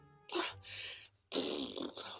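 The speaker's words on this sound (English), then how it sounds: "I'm just gonna fart whenever I miss something" A mouth-made fart noise in blooper outtakes, two blurts close to the mic separated by a short pause.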